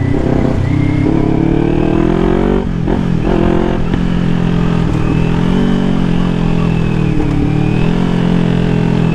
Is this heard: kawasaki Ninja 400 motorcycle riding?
yes